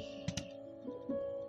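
A few quick clicks of code being typed on a computer keyboard, faint and close, in a brief burst of taps with a short pause between them.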